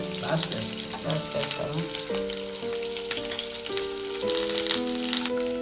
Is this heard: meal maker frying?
yes